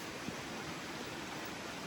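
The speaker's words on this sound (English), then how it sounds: "You can hear that water rushing behind me." Water rushes in a stream behind a tent at dawn on the Appalachian Trail, a steady, dense broadband roar that stays constant and fairly close with no other sounds over it.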